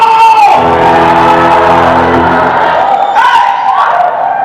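A church congregation at a Sunday service shouts and cheers together, a loud sustained roar of many voices that swells, dips and rises again.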